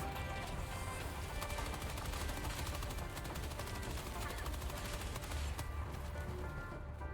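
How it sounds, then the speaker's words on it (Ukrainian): An MG-206 heavy machine gun in Helldivers 2 fires long, continuous rapid bursts, a dense rattling stream of shots over battle noise, fairly faint overall. "А у якості допоміжної зброї вибір впав на важкий кулемет МГ206."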